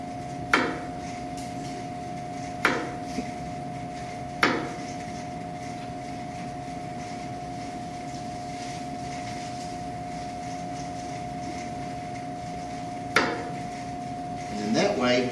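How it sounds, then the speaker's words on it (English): A chef's knife chops bâtonnets into cubes on a cutting board: a few sharp, separate knocks spaced seconds apart over a steady hum, with a final cluster of quicker taps. "And with the claw method, I cut them into cubes."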